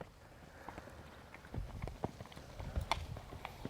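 A young horse lopes while being started under saddle, its hoofbeats a faint, rhythmic clip-clop that grows slightly stronger partway through, with no talk over it.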